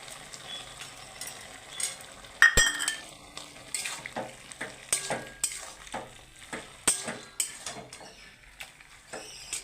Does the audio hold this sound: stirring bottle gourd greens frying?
yes